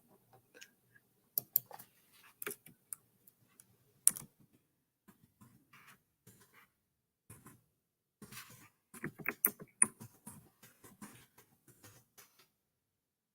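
Typing on a computer keyboard during a live vintage jewelry sale: irregular bursts of quick, light key clicks, with a sparse stretch before a denser flurry of keystrokes toward the end, close and fairly quiet with no talking.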